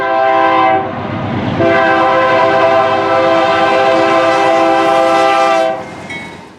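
A locomotive air horn, a Nathan K5LA, sounds in two long chorded blasts, the first brief and the second sustained for several seconds, loud and close over rumbling rail noise before cutting off.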